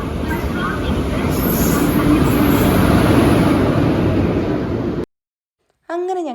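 A train at a railway platform rumbles steadily and loudly with broad rolling noise for about five seconds, then cuts to silence before a brief voice is heard.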